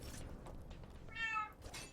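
A cat gives one short, faint meow, rising briefly over a quiet background hum before fading.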